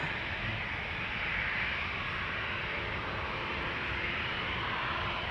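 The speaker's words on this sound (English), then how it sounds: "KLM flight 1231 to Göteborg, 737-700" Engines of a KLM Boeing 737-700 departing Amsterdam Schiphol for Göteborg give a short, even, close-up rumbling roar that stays constant throughout.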